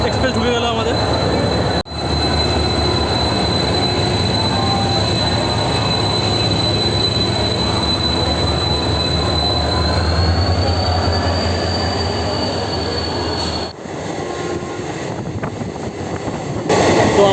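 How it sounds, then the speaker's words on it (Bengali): The 18011 Chakradharpur Express pulls into the New Complex platforms at Howrah station, with a loud, sustained rumble and a high, steady squeal of wheels on rail that rises slightly near the end. "এই চক্রধরপুর এক্সপ্রেস ঢুকে গেল আমাদের।"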